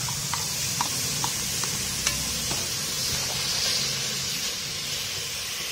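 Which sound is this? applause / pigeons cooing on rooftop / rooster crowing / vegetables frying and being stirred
vegetables frying and being stirred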